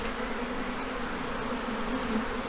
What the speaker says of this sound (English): Like there's areas where there's quite a lot of bees